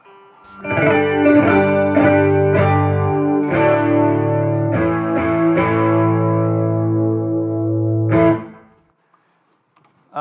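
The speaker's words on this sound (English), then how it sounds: "It's got a stereo chorus that's built into the amp." An electric guitar plays sustained chords through the amp's built-in stereo chorus, shimmering and widened, with several strummed changes and a ringing final chord that stops abruptly.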